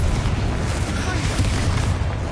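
Spell explosions in the video game Hogwarts Legacy rumble as a dense, continuous barrage of booms and bursts, loud and close.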